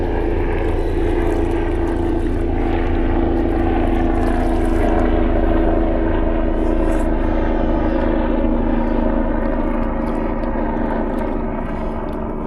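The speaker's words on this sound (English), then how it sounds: "Oh, look at the helicopter." Helicopter flying over the South Thompson River, a steady loud droning rotor and engine hum holding throughout, with a constant low rumble and no voices.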